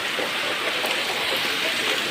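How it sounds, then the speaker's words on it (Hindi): Heavy rain pours down as a dense, continuous, fairly loud wash of noise without pauses, and no one speaks. "प्रबल वर्षा"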